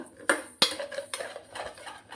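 Sugar being stirred in a pan for caramel: a few sharp metallic clinks and scrapes of a utensil against the pan, close and clear, with quiet gaps between them.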